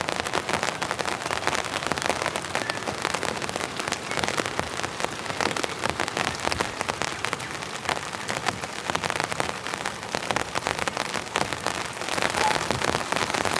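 Heavy rain pounds steadily on a tent during winter camping, a dense, continuous patter of close drops with no pauses and no talk.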